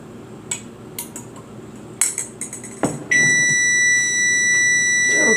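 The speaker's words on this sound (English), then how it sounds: "Okay, the timer went off" A kitchen timer sounds a sustained, loud electronic beep close by after a few clinks of cutlery and pans being handled during cooking.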